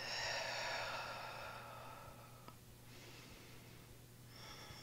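A slow, deep exhale during a beginner yoga class, a soft breathy rush that fades gradually, followed by quiet room tone and a faint breath near the end.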